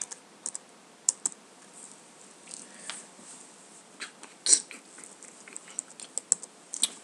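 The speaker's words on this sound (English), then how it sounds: "Stop typing." Computer keyboard typing during a Skyblock game session, irregular bursts of light clicky keystrokes, close and fairly quiet over faint background hiss.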